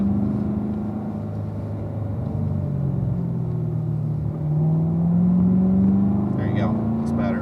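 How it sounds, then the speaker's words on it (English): A car engine on a track pulls out of a turn, a continuous rumbling drone that rises gradually in pitch as it accelerates, loud and steady throughout, with a brief squeak near the end. "the car kind of understeers a little bit when you start going back to the gas in the middle"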